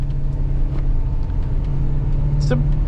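A 2015 Ford E-350 shuttle bus drives along a larger road, its engine and road noise forming a constant low rumbling drone from inside the cabin, with a brief faint whistle near the end.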